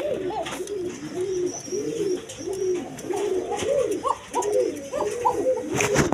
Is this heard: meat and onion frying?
no